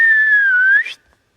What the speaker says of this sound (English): That was a pretty good whistle, wasn't it